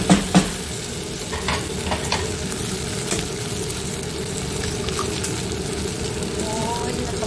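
Bitter gourd (ampalaya) frying with egg in a pan, a steady sizzle with occasional stirring scrapes and clatters throughout, fairly close and continuous, with no talk over it.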